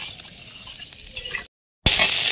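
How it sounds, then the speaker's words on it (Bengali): Jujube berries being stirred in a pan for a sweet-sour pickle, a soft scraping and clinking stir with a faint sizzle, interrupted by a brief silent gap before the stirring resumes louder. "এটা কয়েকবার নাড়াচাড়া করবো"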